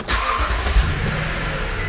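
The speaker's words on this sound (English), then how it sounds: "Start the engine." A car engine starts during an air-conditioning fault check and settles straight into a steady idle. The sound is close and moderately loud, with no voices.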